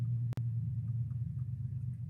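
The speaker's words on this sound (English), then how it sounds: "You guys probably hear my neighbor's truck getting started up." A truck engine idles nearby after starting, a low, steady rumble holding throughout with a brief sharp click early on and no talk over it.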